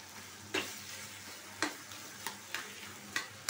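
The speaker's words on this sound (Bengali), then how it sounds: "এরকমভাবে নাড়তে থাকবো" Taro greens (kochu shak) being stirred and fried in a pan with shrimp, a steady soft sizzle broken by a handful of sharp spatula scrapes and clicks, close and fairly quiet with no talking.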